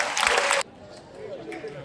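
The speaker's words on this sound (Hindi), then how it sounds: "प्लीज जोरदार तालियों के साथ अभिनंदन करते हैं श्रीमान भागवत कावड़े जी का" Brief burst of audience clapping welcoming a speaker at an RCM business event, loud and dense for about half a second, then cutting off abruptly to quiet room tone with faint talk.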